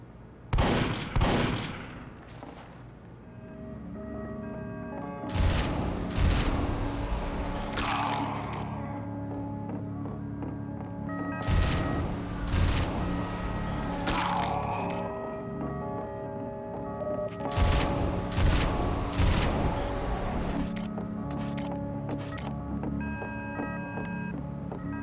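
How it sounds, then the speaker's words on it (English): Booming shotgun blasts in Team Fortress 2, fired in four separate bursts of several shots each at a target on a jump map, with game beeps and mechanical tones ringing between them. "to get in the course you need to shoot this target with a shotgun"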